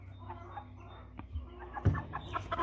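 An American Bresse pullet being handled gives soft, low clucks and murmurs close by over faint background rustling, with one slightly louder cluck near the end.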